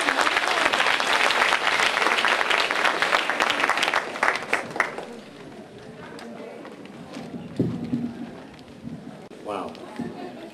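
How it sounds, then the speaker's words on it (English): An audience at TJC's International Day applauds to welcome speaker Michael Lujan. Loud, dense clapping rolls for several seconds, then thins to scattered claps with murmuring voices as it fades. "Please join me with a round of applause."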